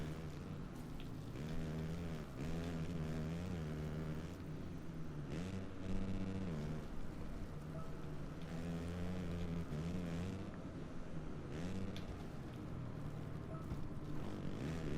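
Dirt bike engines in a Supercross video game drone and rev continuously, with rising and falling pitch sweeps as the throttle opens and eases, steady and moderately loud throughout.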